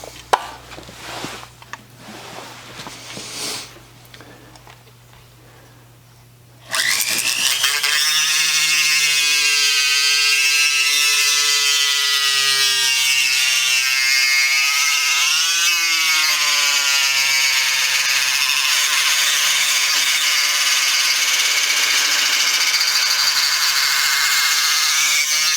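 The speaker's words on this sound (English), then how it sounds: "we'll just go ahead and nip the end of this off here with the rotary tool" A rotary tool grinds through a protruding piece of zinc coated steel in a broken gunstock repair, starting after a few quiet seconds as a loud, continuous high whine that dips and recovers under load.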